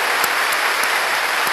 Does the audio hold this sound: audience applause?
yes